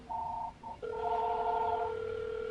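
A house phone rings in short electronic tone bursts, a brief double pulse followed by a longer sustained ring, fairly faint and heard over a podcast call line.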